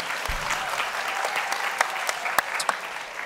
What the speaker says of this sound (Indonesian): tepuk tangan dulu buat Amanda